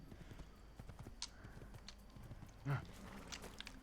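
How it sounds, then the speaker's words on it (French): In the Assassin's Creed video game, a horse's hooves clip-clop at a steady trotting pace, faint and somewhat distant, with a brief louder thump near the end. "je prends un cheval pour faire 30 mètres"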